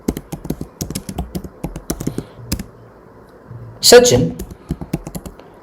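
Keys clatter in quick, close, irregular bursts while a ChatGPT prompt is typed on a computer keyboard, with a voice speaking briefly over the typing.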